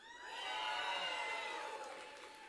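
A large crowd at a campaign rally for a Texas land commissioner cheers and shouts loudly, a sustained roar of mixed voices with whoops that holds steady for a couple of seconds and starts to ease off.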